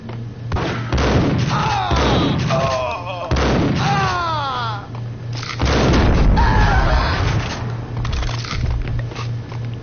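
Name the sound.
gunfire in a PS4 video game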